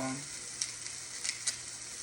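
Onion hits a hot pan for creamy tomato pasta, giving a steady, close broadband sizzle with a few brief sharper crackles, and no talking.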